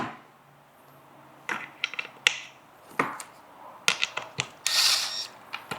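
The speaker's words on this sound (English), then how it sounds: "It's a 1/4 by 1 inch bolt, flathead bolt. And then I just thread it a little bit." A 1/4 by 1 inch flathead bolt threaded by hand during assembly, with soft scattered metallic clicks, taps and scrapes in a quiet room, fairly close, no talk.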